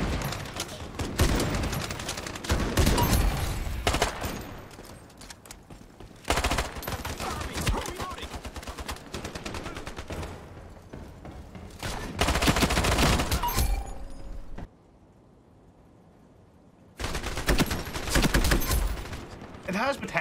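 Bursts of rapid automatic gunfire from the online shooter Ironsight, loud and close, coming in long sustained volleys separated by brief gaps and one near-silent pause.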